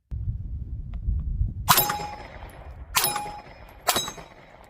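Pistol rounds strike an A-zone steel target downrange, heard as three distant metallic clangs roughly a second apart, each ringing briefly over a low outdoor rumble.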